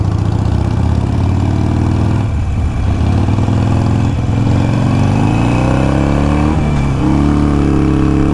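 A 2018 Harley-Davidson Heritage Classic 114 V-twin motorcycle on a test ride, its engine droning steadily and loudly throughout with shifting pitch as it accelerates and eases off, no voices heard.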